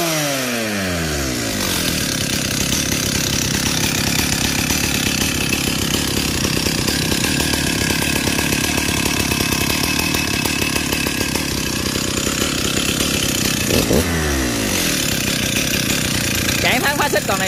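A Stihl 028 AV chainsaw, 47cc, roars loudly up close as the throttle is opened, climbing from idle to a high whine, holding, then dropping and rising again near the end, with someone speaking over it.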